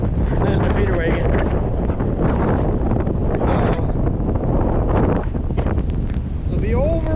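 Cold winter blizzard wind buffets the microphone on a farm near a feeder wagon, a loud, continuous roar with steady gusting for the whole stretch, while a muffled voice is faintly heard underneath.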